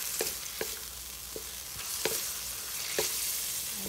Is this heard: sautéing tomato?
yes